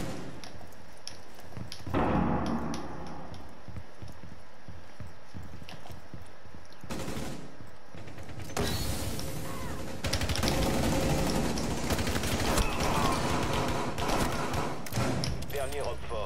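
Gunfire from the video game Rainbow Six Siege, with sharp bursts and dense loud shooting, mostly in the second half, heard among other game effects.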